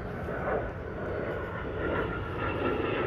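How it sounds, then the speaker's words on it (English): A fixed-wing airplane passes overhead, heard as a steady broad engine roar that swells slightly and holds at a moderate distance without any talking over it. "There's an airplane about to fly over"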